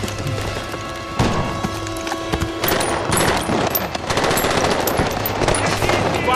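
A film shootout rages with rapid bursts of machine-gun fire and scattered single shots, loud and close, mixed with impacts and splintering wood, continuous over several seconds.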